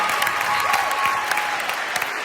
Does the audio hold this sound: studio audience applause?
yes